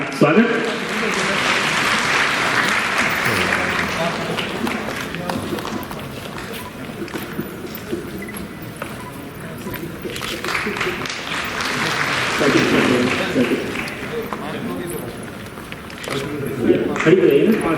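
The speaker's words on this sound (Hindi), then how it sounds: "तालियों के साथ इस अवसर का स्वागत।" An audience at a university event in a convention center applauds, two long waves of clapping that swell and fade, with a speaker's voice over a loudspeaker in between.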